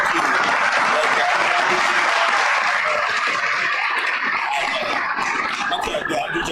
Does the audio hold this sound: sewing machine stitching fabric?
no